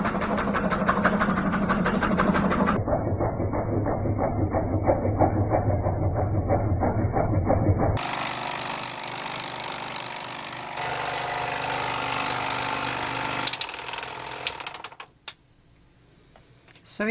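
A 1972 Bell & Howell 1535 16mm film projector runs very loudly with a dense, steady mechanical clatter and rattle, continuous and close, changing character partway and ending in a few sharp clunks.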